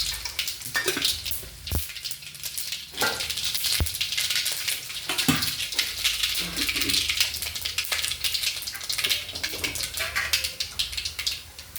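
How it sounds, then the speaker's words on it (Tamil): Mustard seeds sizzle in hot oil for idli upma. A steady, close hiss of frying runs throughout, dotted with scattered sharp pops and crackles. "அதுக்கு இப்போது எண்ணெய் ஊற்றி வச்சுட்டு கடுகு போட்டுக்கலாம்."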